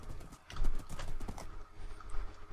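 Horse hooves clip-clop steadily in the Minecraft Hypixel arcade game, with a faint whinny. The fast, irregular hoof beats fill the whole stretch at moderate loudness, with no talking.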